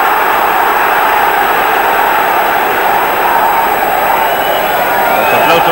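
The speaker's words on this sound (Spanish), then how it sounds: "Los aplausos de ánimo ahora de los aficionados del United." Manchester United supporters applaud in a packed football stadium during a 1994-95 Premier League match against Liverpool, making a steady, dense crowd roar that fills the whole stretch without breaks while a voice talks over it.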